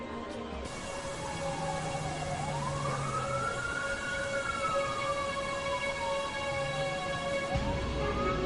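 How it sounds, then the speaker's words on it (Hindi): An ambulance siren arrives at the scene of a road accident, a loud wailing tone sweeping up and down continuously over steady traffic rumble, with no talk. "तो देखो एम्बुलेंस भी आ गई।"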